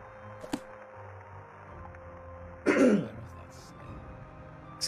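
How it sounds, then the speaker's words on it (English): One loud, close throat clear stands out midway through a quiet stretch of game background sounds. "I keep having to clear my throat today."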